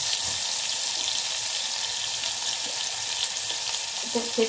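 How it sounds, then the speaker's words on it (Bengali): Potatoes and eggplant sizzle and fry in a pan while being stirred, a steady close hiss with faint scraping and a few clinks near the end; no one speaks. "এখানে নাড়াচাড়া করে নিচ্ছি।"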